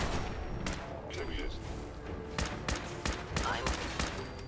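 Gunfire from a weapon in the video game Fallout 4, rapid repeated shots cracking in dense bursts over a busy game soundscape, with a player talking over it.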